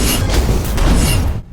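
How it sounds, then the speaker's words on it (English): A loud, rumbling explosion in the video game Ghost Recon Breakpoint roars continuously for over a second, then cuts off abruptly into quiet. "Breakpoint has a ton of explosions."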